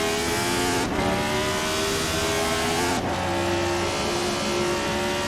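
A 1975 Formula One car in Assetto Corsa revs hard and climbs through the gears, the loud engine note dropping sharply at two upshifts before rising again, with no talking.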